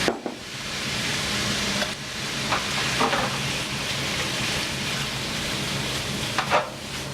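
Calamari sizzling in a hot pan with garlic and shallots, a loud, steady frying hiss close up with occasional stirring scrapes and pops, no talk.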